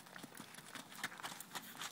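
Faint hoofbeats clop in a quick, uneven rhythm, distant and soft, like a horse moving over firm ground.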